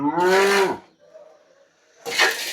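A pure-breed dairy cow on a farm gives two loud, close moos, a long low one at the start and a shorter one at the end, with a quiet pause between them.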